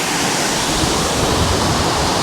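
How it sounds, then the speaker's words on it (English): Waterfall at Thac Tinh Yeu, the Love Waterfall, high in the Sapa mountains, roaring with steady broadband rushing water, loud and close, with no voices. "There's the waterfall, man."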